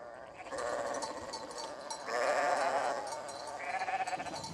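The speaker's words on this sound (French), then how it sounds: "Il y a environ 150 brebis qui veulent rentrer en même temps." A flock of about 150 ewes bleats outside a sheepfold as they crowd to enter, with overlapping wavering calls from several animals in close, continuous succession and no talk.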